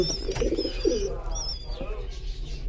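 Pigeons coo softly and repeatedly close by in a loft with two young chicks, with bright chirps and a voice talking over them.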